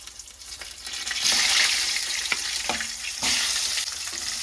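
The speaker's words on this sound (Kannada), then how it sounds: "ಇವಾಗ ಕರಿಬೇವು ಸೊಪ್ಪು ಹಾಕೊಂಡ ನಂತರ ನಾನು ಇದರೊಳಗಡೆ ಬದನೆಕಾಯಿನ ಹಾಕೊಳ್ತಾ ಇದ್ದೀನಿ" Eggplant goes into hot oil with curry leaves for North Karnataka style stuffed brinjal, producing a loud, close sizzle that swells in bursts as the pieces drop in and are stirred, with no talking.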